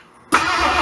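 A Ford Bronco engine cranks and catches after the key is turned, leaping from near silence into a loud, steady running roar close by, with no talking.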